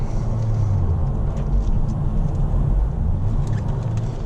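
A 2010 Ford Focus RS builds speed on a motorway, its steady engine drone and deep road rumble loud and continuous from inside the cabin, with no voices over it.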